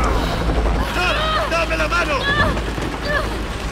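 Helicopter going down in Tomb Raider (2013): a roaring rotor-and-engine rumble with rising and falling whine, dense game-effects clatter and babble, loud and continuous throughout.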